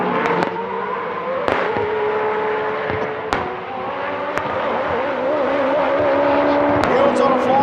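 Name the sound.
Nissan GT-R time attack race car at full throttle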